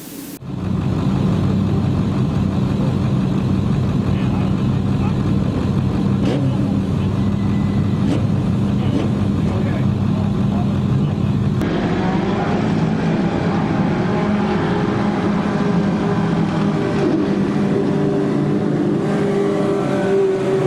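Race cars in a Legend feature event at Barberton Raceway Park roar steadily at close range on the track, a dense continuous engine drone that shifts in pitch midway as the pack passes, with no clear talk.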